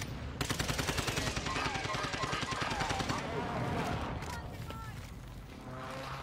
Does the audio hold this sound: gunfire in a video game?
yes